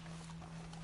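Horse hooves clip-clop in the video game Red Dead Redemption 2 Online, a quiet, brief run of soft hoof beats over a steady low hum.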